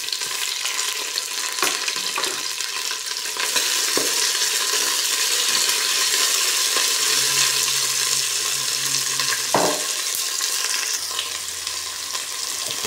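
Tomatoes sizzle and hiss steadily in a hot pan while being stir-fried for ampalaya with egg, with occasional stirring scrapes and clinks, close and continuous.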